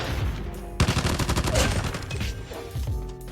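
AGR 556 submachine gun, a 9mm AUG variant in Call of Duty Mobile, fires rapid automatic bursts: a short volley, then a longer sustained burst of sharp shots, with a few trailing shots and echoing tails.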